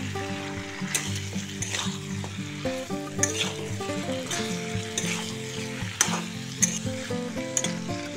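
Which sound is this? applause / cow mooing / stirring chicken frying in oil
stirring chicken frying in oil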